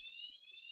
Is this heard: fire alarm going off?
yes